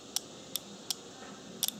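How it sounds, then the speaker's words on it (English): A car cooling fan relay clicks as power is applied during a bench test, giving sharp, isolated ticks at irregular spacing, four single clicks and a quick double, close up over a quiet hiss. "Again, this is clicking."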